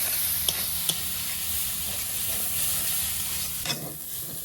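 Ghatkol leaves frying in a pan, a soft continuous sizzle and hiss with a few sharp clicks of stirring, close and steady, no voices.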